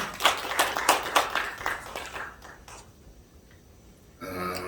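Rhythmic clapping from a congregation at a Korean church ceremony, fairly soft and evenly spaced, tapering off after a couple of seconds into quiet room noise before a brief louder sound at the end.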